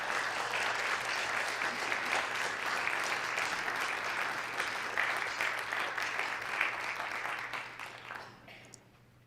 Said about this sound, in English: Please help me greet them warmly with a round of applause.